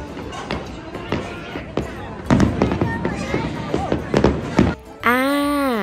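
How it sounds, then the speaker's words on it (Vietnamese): Fireworks burst over Darling Harbour in Sydney on a Saturday night, a string of booms and crackles at moderate distance, with people talking and crowd noise mixed in, before a sudden shift to a different sound at the end. "nghe thấy tiếng pháo hoa đùng đùng đùng đùng đùng"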